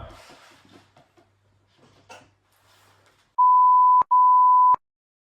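Two long flat censor bleeps, loud and steady, the second following just after the first, coming after quiet stretches of muffled talk and rustle.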